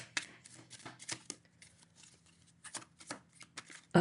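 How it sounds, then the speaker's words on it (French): Tarot cards shuffle in quick riffling bursts, close and crisp, followed by a pause and a final card drawn, with no talk during it. "Je vais prendre une dernière carte."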